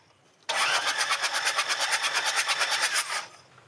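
A car engine cranks with a fast, rhythmic churning that starts abruptly, runs about three seconds, then cuts off without catching; the engine has water in it and is leaking fuel.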